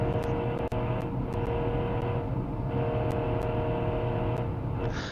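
A 3-liter Boxer six race car engine with six side exhausts in a BeamNG racing game, droning loud and steady with a continuous revving hum over the full stretch, close and unbroken.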